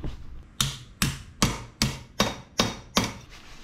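Hammer blows on a rat rod's metal tail light bracket as it is straightened, seven sharp ringing strikes in a steady rhythm about every half second, loud and close with no talking.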